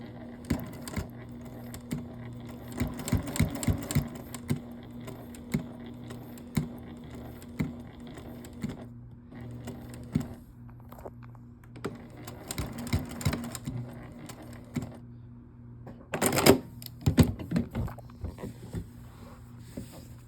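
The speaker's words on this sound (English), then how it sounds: "I'm going to sew down to about here, and then I'm going to backstitch" A sewing machine stitching quilt binding with a backstitch: a steady low motor hum broken by irregular mechanical clicks and needle taps, with a louder clattering burst near the end.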